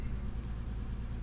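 A Datsun 280Z engine idles with a steady, even low rumble, fairly close.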